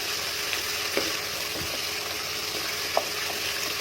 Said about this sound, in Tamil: பச்சை மிளகாய் போட்டுக்கிறேன் மூணு மிளகாய் மூணு பச்சை மிளகாய் போடுறேன் அப்படியே வதக்குறேன்